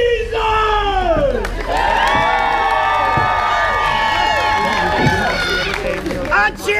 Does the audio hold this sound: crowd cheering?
yes